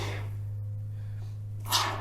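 A can of spray foam insulation spraying into a tight spot in a school bus floor: a short hiss at the start, then a sharp, loud spray burst near the end, over a steady low electrical hum.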